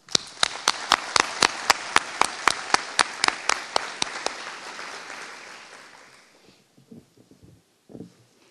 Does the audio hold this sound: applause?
yes